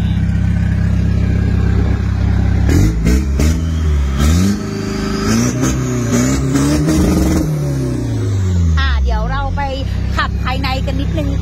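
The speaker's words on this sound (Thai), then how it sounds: "เดี๋ยวเราฟังเสียงสตาร์ทเครื่องยนต์กันนิดนึงนะคะ" A Mitsubishi Triton diesel pickup engine cranks and catches, then revs up and down several times before settling, with a person talking over it nearby.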